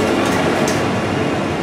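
A train departing Prague railway station for Bratislava, with a steady, loud rumbling roar of rail noise running without a break, some faint higher rattles on top.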